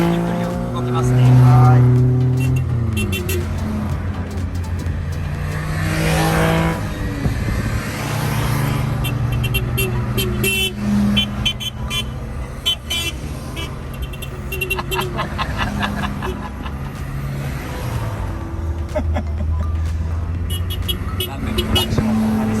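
Small Japanese kei cars, including Honda Beats and an Autozam, roll slowly into a large Texas gas station, their little engines humming and revving close by as they pass one after another, with people chatting over the sound.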